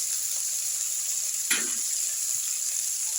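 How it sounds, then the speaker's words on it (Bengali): Vegetables including eggplant and beans drop into hot oil alongside fried fish, raising a brief burst of crackling over a steady frying sizzle that continues throughout. "এবার আমি সবজিটা দিচ্ছি।"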